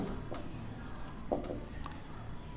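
An abbreviation is written by hand, with faint, close scratching strokes and small taps coming in quick, irregular bursts over a quiet background.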